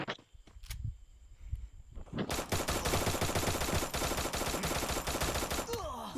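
Gunfire in the Free Fire video game starts with a few scattered shots, then breaks into a dense, loud stretch of rapid automatic fire that lasts to the end.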